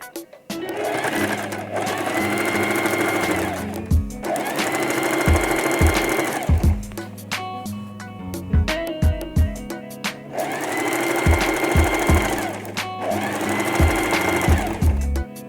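A sewing machine stitches a one-inch seam through two layers of bag fabric, running in three sustained loud bursts with short stops between them, each stop broken by a few low thumps as the fabric is handled.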